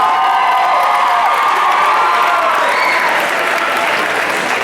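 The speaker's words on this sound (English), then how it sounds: "Make some noise for contestant number 7, Alejandro Salvador Garcia." Audience at a contestant show cheering and applauding for a contestant, a dense sustained wash of clapping with shouts and whoops from a large crowd, loud and continuous.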